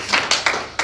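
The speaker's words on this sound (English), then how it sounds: "Let's give God a clap of applause." Several sharp handclaps from a church congregation, a few distinct bursts in quick succession, close and bright with no talking over them.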